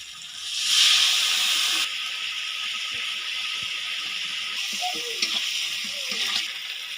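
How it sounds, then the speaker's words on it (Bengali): A little water hits a hot pan of spiced khesari lentil mixture with a loud hissing burst of steam that quickly settles into a softer, steady sizzle and bubbling, with no talk. "এখানে আমি অল্প কিছু জল দিব"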